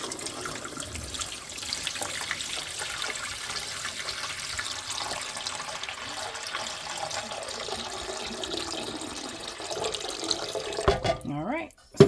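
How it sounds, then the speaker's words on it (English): Water poured into a pressure canner to the fill line, a continuous close rushing pour that runs steadily for most of the span before stopping, with a short clatter at the very end. "I'm just going to pour the water"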